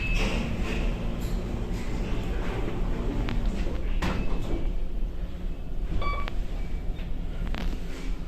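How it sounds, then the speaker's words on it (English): Lift doors aboard a boat slide shut with steady mechanical rumble and a few clacks and beeps, close and continuous, no talking. "Doors closing."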